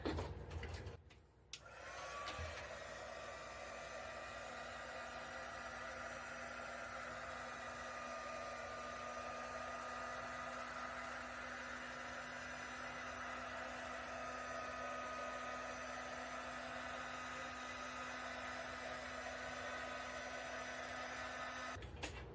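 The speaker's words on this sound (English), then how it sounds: "I do want to hit this just one more time with a heat gun" A heat gun blows hot air over poured acrylic paint in a steady, even whoosh with a faint tonal hum, holding level for about twenty seconds after a brief click and pause at the start.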